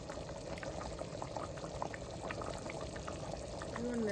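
Chicken curry simmers in a covered pot, a steady close bubbling and burbling boil with soft liquid gurgles throughout and a faint voice-like tone at the very end.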